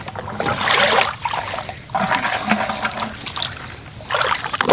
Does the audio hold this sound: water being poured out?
yes